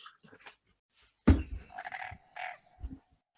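Frog croak sound effect triggered through chat during a tabletop game session, a sudden close croak followed by a few shorter croaking bursts, otherwise quiet.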